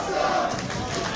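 Wrestling crowd at a PPW tag team match, a dense roar of many voices chanting together at full volume with no gaps, its words blurred into the broad wash of the crowd.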